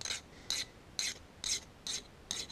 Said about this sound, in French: on ébavure toujours en poussant la lime